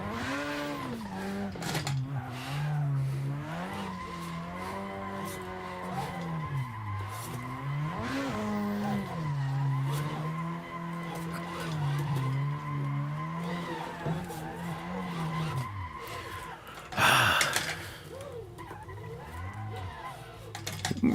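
A car sliding through drift practice, engine note swinging up and down under throttle while tires squeal and skid continuously, with a sharp louder burst of tire screech late on.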